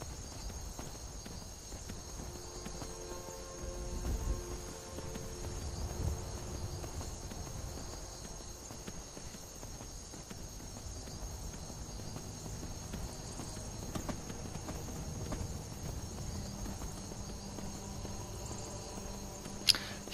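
Hooves clip-clop at a steady pace as a horse moves along in Skyrim. The footfalls are soft and fairly faint, with a constant insect-like chirring behind them and no talk.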